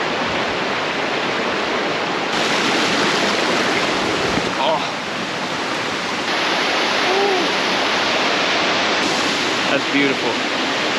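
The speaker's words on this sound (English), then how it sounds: "River flowing right back into the Gulf right here." Rushing water where a river flows out into the Gulf at Gros Morne, a steady broadband roar like surf or a small waterfall, loud and continuous, with a person speaking briefly over it.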